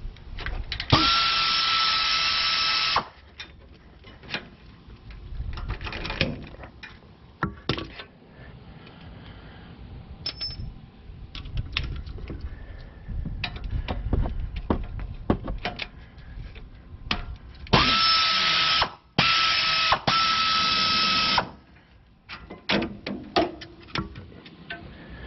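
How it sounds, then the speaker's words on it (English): Brake caliper bolts coming out of a 2003 Ford Explorer during a pad change, with two bursts of an impact or power tool whirring near the start and end, and clanks and rattles of metal parts in between, close and with no talk. "you just take the 2 caliper bolts out"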